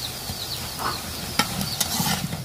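Bora fritters frying in hot oil with a rough, crackling sizzle, close and steady, broken by a few sharp clacks of stirring.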